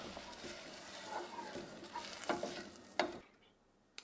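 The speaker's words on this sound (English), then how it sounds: "add about a cup of red wine and let that cook for a minute" Red wine cooks in a pan during lasagna preparation, a soft steady simmering sizzle with a few clinks of a utensil stirring, before cutting off to near silence at the end.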